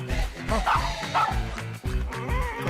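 A dog in a comedy film scene gives a series of repeated barks and yips in a fairly steady rhythm. The dog sounds close and fairly loud, with scene noise underneath.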